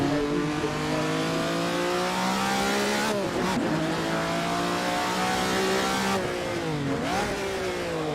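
A Ferrari race car engine in a racing video game at Zandvoort roars continuously at high revs, the pitch dropping and climbing again through two gear changes, with a tire squeal under the engine noise.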